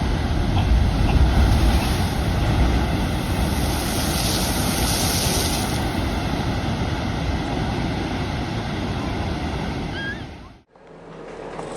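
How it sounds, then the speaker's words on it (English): Heavy North Atlantic winter waves crashing against a lighthouse, a loud, continuous roar of surf and wind buffeting the microphone that stops abruptly near the end. "Instead of taking a direct hit on a flat surface, the waves are dispersed, significantly reducing the impact's force."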